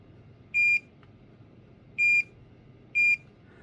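A multimeter gives three short, clear continuity beeps, evenly spaced over a soft background hiss, while pins on a Merit Scorpion DX front panel are checked.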